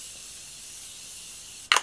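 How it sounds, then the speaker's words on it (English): Morphe setting spray hisses onto a face, a faint airy hiss ending in one sharp, close burst of mist. "I'm gonna spray my face with the Morphe setting spray."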